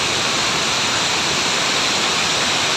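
Capandagan waterfall in San Gabriel, La Union, gives a steady, close, loud rush of falling water with no voices.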